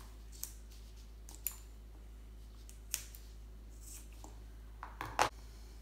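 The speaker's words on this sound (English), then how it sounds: "So I'm just going to cut this right to the left" Scissors snip through fabric for a sewn wet bag in a quiet room, with a handful of crisp, separate cuts spaced about a second apart and a quicker double snip near the end.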